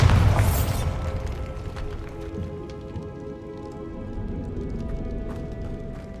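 A Bombarda blasting spell in Hogwarts Legacy goes off with a loud booming burst at the start, then crumbling debris and a pattering rain-like scatter fade out over several seconds.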